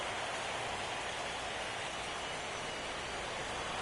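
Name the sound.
heavy rain falling at ballpark in MLB video game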